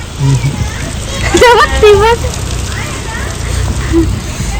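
Steady rain hisses in the background while children and adults talk and call out excitedly over it.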